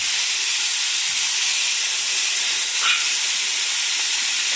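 Food frying in hot cooking oil, a steady, loud, broadband sizzle and hiss that holds evenly throughout with no voices over it.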